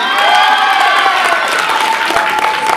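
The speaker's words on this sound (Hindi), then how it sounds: "एक बार और होना चाहिए ताली वाली बचाइए जरा" An audience at a winter dance competition claps loudly and continuously, and bright cheers and shouts rise through the applause across the whole stretch.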